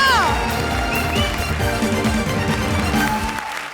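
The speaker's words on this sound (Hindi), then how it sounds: "जोरदार तालियां लेडीज एंड जेंटलमैन फॉर बपीता।" Studio audience at a comedy show clapping and cheering loudly for Bappi, dense sustained applause with music and voices mixed in, fading slightly near the end.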